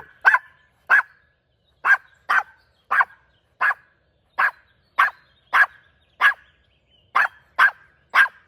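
A dog barks repeatedly in a spring back-yard garden, sharp single barks spaced about half a second to a second apart, fairly close and loud with quiet between them.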